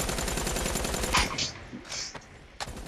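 Razorback submachine gun firing in Black Ops 3, a loud rapid burst of automatic gunfire that stops after about a second, followed by scattered in-game impacts and clatter.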